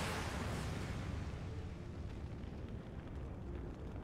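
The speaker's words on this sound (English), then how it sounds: "Explosions!" Explosions in Final Fantasy XIV make a dense roaring blast that fills the whole clip, loud and sustained with no distinct separate bangs and no voices.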